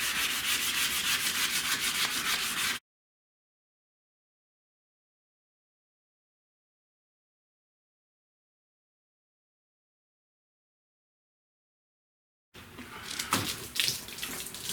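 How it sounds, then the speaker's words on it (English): Car paint is wet sanded by hand in two short bursts of steady, close rubbing and scrubbing, with a wet, gritty texture, separated by a long stretch of dead silence. "when I'm sanding on this, I can actually hear the difference"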